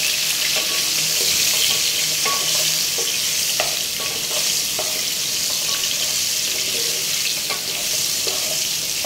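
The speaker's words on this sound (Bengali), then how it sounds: "আলুটা ভাজা হচ্ছে" Potatoes fry in hot oil with salt, a loud, constant sizzle close by. Regular scrapes and clicks of a spatula stirring the pan run through it.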